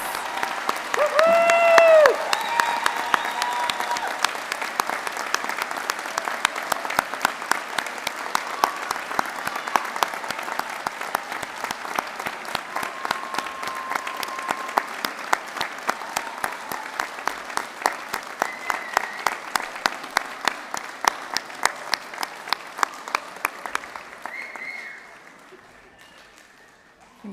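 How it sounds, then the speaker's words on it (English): Sustained applause from a crowd at a graduation ceremony, steady and dense for about twenty-five seconds with a cheer near the start, then fading out abruptly. "And now let's have a big round of applause for all of our graduates."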